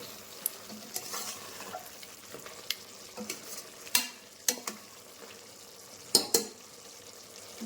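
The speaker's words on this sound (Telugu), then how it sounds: "5 నుంచి 7 నిమిషాలు అట్లా మాంసాన్ని నూనెలో మగ్గనిద్దామండి" Mutton pieces frying in hot oil in a pot while being stirred, a steady sizzle broken by repeated sharp scrapes and clinks of the spoon against the metal, close and fairly quiet with no voices.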